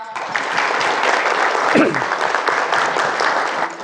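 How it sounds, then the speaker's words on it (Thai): Audience applauding at a Thai company town hall sharing event honoring a Gold Club member: sustained, dense clapping from a room of people, steady and fairly loud throughout with a brief lower murmur midway. "ขอเสียงปรบมือให้พี่เจนด้วยครับ"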